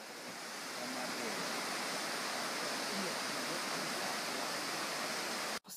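Thunder Creek Falls in New Zealand, a waterfall roaring as a steady broad wash of falling water, constant and fairly distant, ending with a brief knock.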